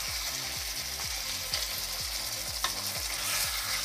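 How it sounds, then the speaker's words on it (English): Cooked potato gnocchi being gently turned and stirred in a hot pan, a steady sizzle with soft repeated scrapes and a couple of sharper knocks, close and continuous with no talking. "Just turn them, mix them gently."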